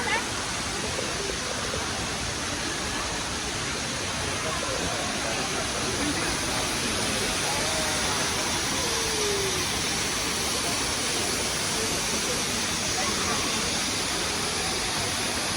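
Indoor waterfall inside the glass-domed Cloud Forest in Singapore, a steady, loud, unbroken rush of falling water filling the space throughout.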